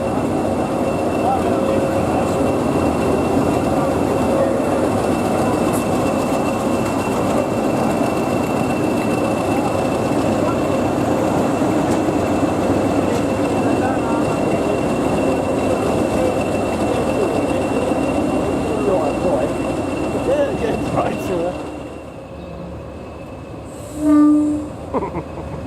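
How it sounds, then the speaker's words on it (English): A Class 20 diesel locomotive rumbles steadily into a station platform with a continuous low engine drone and rail noise, close and loud, fading near the end with a brief squeal. "2142 heads down into the platform so it can couple up to 2227."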